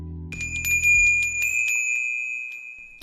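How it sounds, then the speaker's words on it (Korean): A small shop entrance bell hung over a door jingles brightly a few times, its clear ringing tones lingering and slowly fading into silence. "그때 딸랑하고 입구에 걸린 종이 울렸다"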